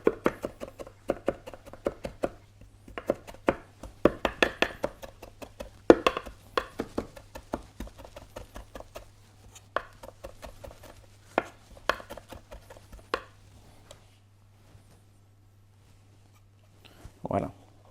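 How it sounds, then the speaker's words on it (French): A knife chops finely on a board, making fast, clustered taps that come in bursts with short pauses. The sound is close and fairly quiet, while someone talks softly and keeps on chopping. "Et là, je hache plus finement de façon à vraiment avoir quelque chose de fin."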